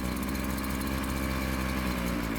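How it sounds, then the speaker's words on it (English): A small two-stroke engine runs close by while its carburettor is adjusted, giving a loud, steady buzzing drone throughout with no pauses. "you can hear the engine starts to die"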